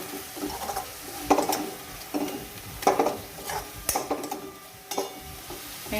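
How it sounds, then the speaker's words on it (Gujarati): Masala spices and tomatoes roast in a pan, stirred in short bursts: a spoon scrapes and clatters against the metal every second or so over a low, soft sizzle, close up, with no voices. "મસાલા શેકાય અને આપણા ટામેટાં સરસ શેકાઈ જાય"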